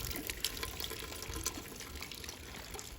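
Holy spring water at Skalka running and splashing steadily, a fairly quiet trickling flow with small irregular spatters and no talking.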